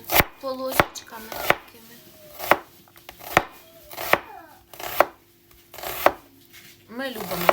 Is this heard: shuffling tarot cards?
no